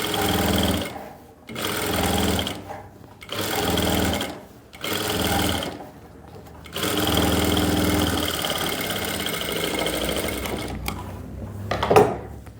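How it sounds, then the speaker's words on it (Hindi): A sewing machine stitches the hem of a Farsi salwar in several rapid mechanical bursts separated by short pauses, then runs in a longer continuous stretch. The whirring chatter is close and steady. "इस तरीके से जो सिलाई मैंने लगाई है"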